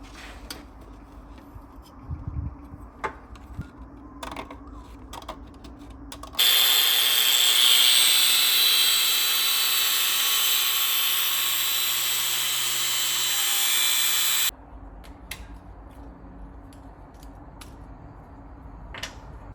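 A power tool cuts through a nylon block made for a Fiat Panda 4x4 lift kit, a loud steady whine lasting about eight seconds between quieter workshop clatter.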